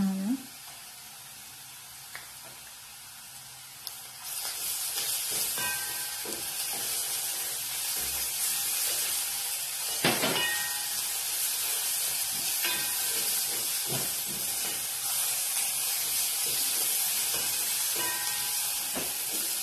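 Double-concentrated tomato paste sizzling in a hot pan, a steady, fairly quiet frying hiss that starts after a few seconds and continues with faint clinks and scrapes.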